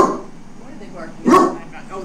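Dogs bark at a deer walking past outside, a single near, loud bark that comes after lower background noise, while people speak faintly.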